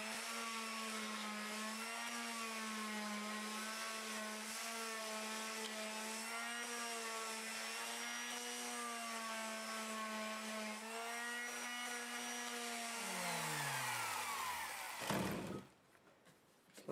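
A 2-inch sanding disc on a power drill runs in reverse against a large wood burl turning on a lathe, giving a steady whining drone with a faint abrasive rasp. The motor then spins down and stops near the end.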